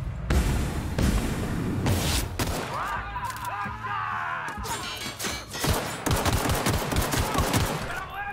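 Rapid bursts of gunfire in the video game The Outer Worlds, loud and close, with repeated rattling volleys and sharp booms, and a voice breaking in briefly.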